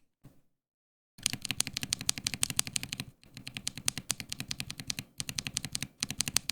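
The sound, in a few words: Neapolitan tactile keyboard switches being typed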